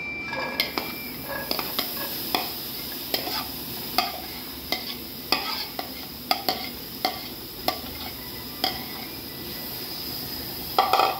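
Bitter gourd, sliced for a karela salad, fries in a frying pan with little or no oil, a soft continuous sizzle broken by regular sharp clinks and scrapes of a utensil against the pan, close by with no talking.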